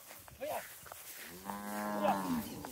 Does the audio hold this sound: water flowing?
no